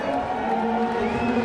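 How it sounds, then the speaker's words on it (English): A crowd cheers the cars at the start of the Le Mans race, a steady wash of distant voices and whoops with a faint tonal hum under it. "Every car getting a cheer now."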